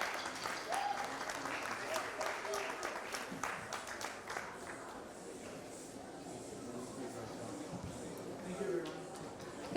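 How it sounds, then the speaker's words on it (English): Audience applause for award recipients at a Hindi Divas celebration, a dense crowd clapping with sharp individual claps early, settling into softer continuous patter with some shuffling and murmured voices underneath. "Could everyone please give these award recipients a round of applause?"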